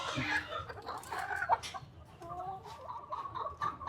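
Country hens on a farm clucking close by, with repeated short clucks and drawn-out calls overlapping in a steady stream.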